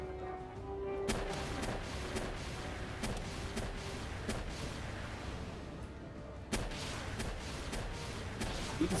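Gunfire in the video game Palworld: several sharp, booming shots land at irregular intervals a second or more apart over a rumbling ambient backdrop, with one louder blast partway through.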